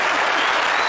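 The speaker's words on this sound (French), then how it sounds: "Vous voulez applaudir, applaudissez." A studio audience bursts into dense, steady clapping that fills the whole moment at full strength, with no pause or break in the applause.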